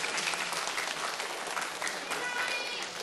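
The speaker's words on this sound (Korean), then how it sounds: "박수 한번 부탁드릴게요." A middle school audience at a quiz contest in Seoul gives its winner steady, dense clapping that fills the moment at moderate loudness without any break.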